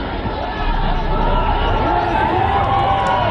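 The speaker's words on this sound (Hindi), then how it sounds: "बाहर प्रशंसकों की भारी भीड़ है" A large, dense crowd of fans gathers outside Salman Khan's car as he heads home on bail, a loud, continuous roar of overlapping shouting and chatter close by with no pauses.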